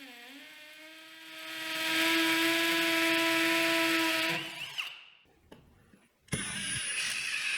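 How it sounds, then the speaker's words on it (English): A power drill bores through a concrete-filled steel pipe while installing a wall bracket, whining with a steady rising pitch, then stopping. Rattling and bumping follow before a second burst of harsh, loud hammer drilling into the concrete. "I drilled through the steel pipe and followed up with a hammer drill bit for the concrete"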